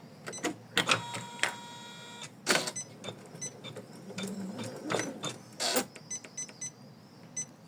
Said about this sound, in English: So we start with stitching the placement line.